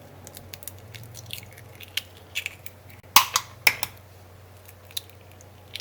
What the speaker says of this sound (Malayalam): ഇതിലേക്ക് നമുക്ക് മൈദയും പിന്നെ മുട്ടയൊക്കെ ചേർത്തിട്ട് ഒന്ന് നന്നായിട്ടൊന്ന് മിക്സ് ചെയ്തിട്ട്